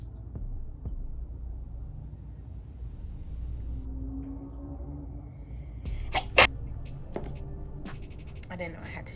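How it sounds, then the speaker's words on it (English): A single sudden sneeze bursts out close to the mic amid a low room rumble, with quiet shuffling and rustling noises around it. "Gotta sneeze."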